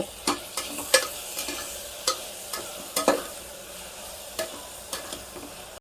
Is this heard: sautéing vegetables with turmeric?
yes